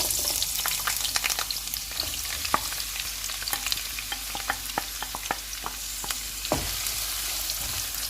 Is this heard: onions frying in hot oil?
yes